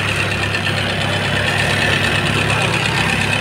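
A Toyota Corolla small-body air conditioning compressor, a Denso 15C conversion, runs with the engine idling: a steady, loud mid-pitched engine hum with faint rhythmic knocking, close up and continuous.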